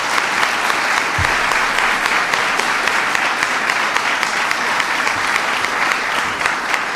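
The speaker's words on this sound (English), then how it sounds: "Please give her a big round of applause." A large audience at a presidential event on small business applauds steadily and loudly for several seconds, a dense, unbroken clatter of many hands with a brief low thump near the start.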